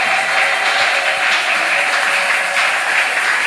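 A church congregation applauding and cheering the Lord, a dense, steady wash of clapping and crowd noise that fills the space evenly without a break.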